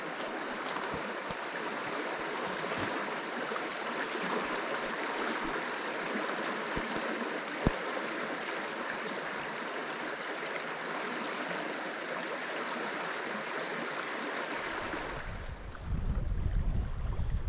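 Mountain stream in the high Cascades near a campsite, flowing in a steady broadband rush that holds constant and close, with a louder, rougher burst of water noise in the final two seconds.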